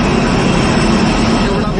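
A large passenger airplane at Mopa airport in Goa roars with a broad, loud jet engine rumble, steady and close, while a voice talks over it.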